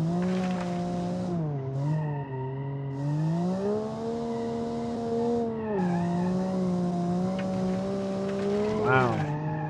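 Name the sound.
car driving with tire squeal in a racing video game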